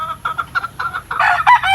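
Yellow Legged Hatch gamefowl chicken clucking up close, a run of short, choppy clucks that grow louder and more insistent toward the end.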